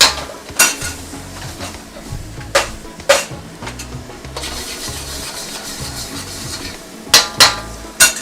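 Bacon fried rice with eggs is stir-fried in a wok, with a steady sizzle of frying under repeated sharp metallic scrapes and clanks of a spatula against the pan, close and loud.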